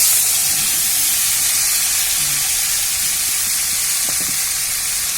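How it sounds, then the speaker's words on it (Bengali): Young jackfruit and potatoes fry in oil seasoned with whole garam masala and cumin, giving a steady, loud sizzling hiss that runs without pause and with no voices. "এবার এঁচোড় আর আলুগুলো আস্তে আস্তে ছেড়ে দিতে হবে।"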